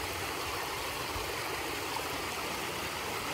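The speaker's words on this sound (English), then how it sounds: "You can kind of see that little waterfall back there." A small waterfall on a mountain stream along the Pacific Crest Trail in Northern California makes a steady, soft, even rushing wash, faint and unbroken, with no voices.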